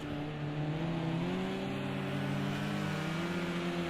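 Race car engines at Donington Park rev continuously and loudly, with rising harmonic engine tones held throughout and no talk.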